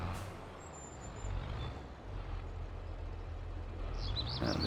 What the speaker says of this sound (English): Handbrake off and into reverse.